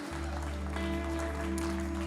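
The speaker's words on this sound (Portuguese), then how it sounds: "Será que você pode aplaudir o Senhor?" A church audience claps for the Lord in a Portuguese-language service, a soft continuous patter of applause over a strong sustained organ-like hum.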